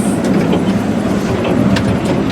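A miniature steam engine train rolls out of a tunnel on small rails with a steady, loud rumbling roar and faint repetitive wheel clicks, no talk over it.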